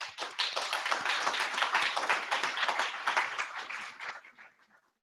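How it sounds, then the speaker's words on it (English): An audience at a launch event claps in a dense, steady round of applause that tapers off at the end, with no talking over it. "please join me in giving them a round of applause"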